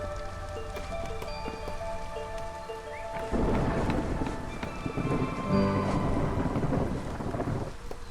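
Video game thunderstorm: rain pours steadily while thunder rumbles, swelling into a louder, heavier roll midway through.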